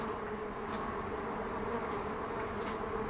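Honeybees hum around a hive box during an emergency rescue of a nest from a house set for demolition, a continuous, even, fairly faint buzz with no voices.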